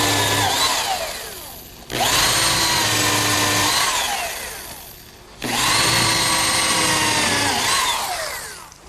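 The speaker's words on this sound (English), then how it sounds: "Now a pilot hole and countersink." A power drill bores a pilot hole and then a countersink into a wooden picnic table seat, two loud sustained whines of a few seconds each, separated by a brief drop, close up.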